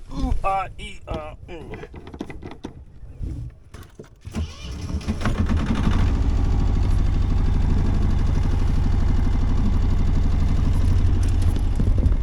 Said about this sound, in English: So this is going. Engine start.